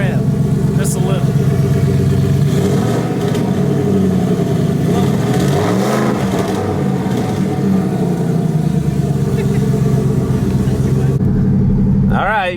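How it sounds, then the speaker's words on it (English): An 800hp turbocharged 2018 Ford Mustang engine rumbles and revs steadily for several seconds, loud and close, with a few rising pulls, while people talk over it. "Give us a little rev."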